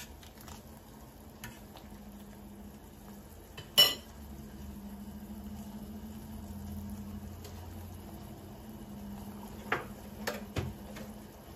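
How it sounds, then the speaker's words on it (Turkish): A spoon stirs sugar syrup in a pot on the stove after lemon salt and a knob of butter go in, a quiet bubbling sizzle with faint scraping, one sharp clink partway through and a few light taps near the end. "Bir parça da tereyağı atalım ve karıştıralım."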